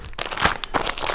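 A foil emergency blanket from a car first aid kit crinkles and rustles close up, a dense, crackling handling sound in several quick bursts over about a second.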